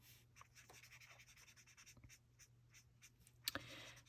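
Alcohol marker strokes blending colour over paper in a quiet room, a soft continuous scratchy rubbing with a few brief louder squeaks and taps near the end, faint and close with no talking.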